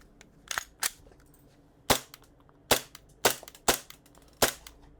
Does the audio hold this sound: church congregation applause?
no